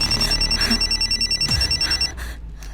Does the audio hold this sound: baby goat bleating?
no